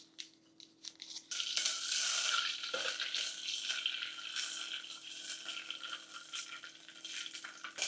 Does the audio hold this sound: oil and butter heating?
yes